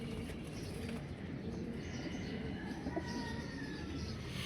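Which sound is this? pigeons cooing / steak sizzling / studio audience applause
pigeons cooing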